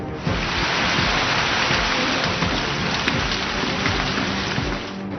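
Heavy monsoon rain pours down steadily in a dense, loud, unbroken wash of noise, with no voices heard.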